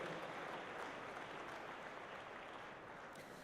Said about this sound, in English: Let's give the Boeing Company a big round of applause